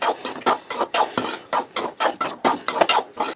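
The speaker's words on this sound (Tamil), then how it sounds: "கைவிடாமல் கிண்டுங்க ரவையை." Semolina (rava) being stirred while it roasts in a pan for rava laddu, a steady run of about a dozen scraping, rustling strokes in an even rhythm, close and clear with no voices.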